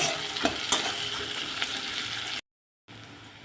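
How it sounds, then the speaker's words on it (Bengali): Chopped onions frying in a pan, a soft continuous sizzle with a few light clinks of stirring, broken by a brief moment of silence before the frying resumes faintly. "ফোড়নটা একটু হতে দেবো মধ্যে দেবো কেটে রাখা পেঁয়াজগুলো ভেজে নেব"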